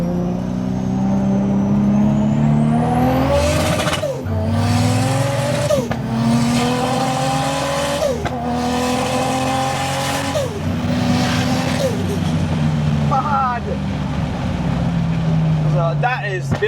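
A BMW E46 with a swapped-in LS V8 revs hard and loud up through the gears, its pitch climbing and then dropping at each shift, with a rough, burbling exhaust note that runs steadily throughout.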